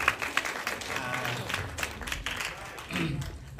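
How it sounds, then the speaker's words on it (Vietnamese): An audience at a film event applauds with steady, dense clapping that fills the room for several seconds. A voice can be heard faintly through the applause. "Vỗ tay cho Lâm được không ạ?"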